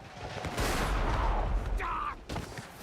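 Hand cannon firing in the stealth video game Shadow Tactics, a loud burst of gunfire that fills the clip and then tapers off.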